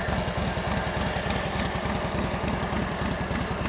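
A 1942 Harley-Davidson WLA motorcycle idles after a cold start, its engine thumping in a steady, even pulse from close range, loud and continuous throughout.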